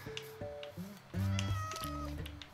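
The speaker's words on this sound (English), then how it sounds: "we got two cats tamed" Tamed cats meowing in Minecraft Bedrock, several clear, close meows in quick succession, with no talk.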